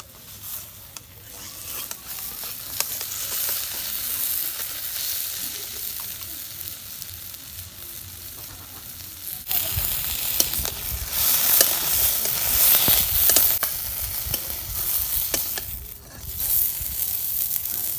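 Fish fries in hot oil with a continuous crackling sizzle that swells louder in the second half, with occasional scraping stirs close up and no talking.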